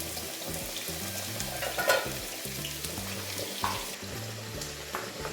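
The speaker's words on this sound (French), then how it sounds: "je commence par frire les oignons. L'huile est déjà chaude." Onions frying in already-hot oil in a pan, a steady close sizzle with occasional stirring clatter and a faint water-like hiss underneath.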